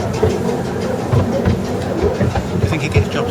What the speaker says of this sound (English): That's the old choo-choo train.